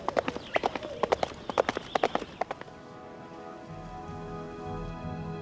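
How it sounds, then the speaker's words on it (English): Horse hooves clip-clopping in a quick, even rhythm in the video game War of the Ring, then stopping as a low steady hum continues. "My horse awaits."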